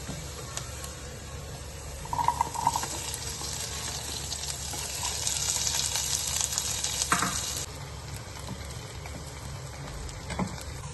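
Chopped onion frying in hot coconut oil after ginger, a steady crackling sizzle with occasional stirring scrapes and clinks close by.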